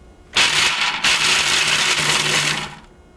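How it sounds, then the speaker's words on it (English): A food processor pulses to chop roasted almonds: a loud, close whirring burst with a brief dip near the start, then a sustained second run that cuts off cleanly. "So I'm going to pulse this just because I want to give my almonds here a brief chop."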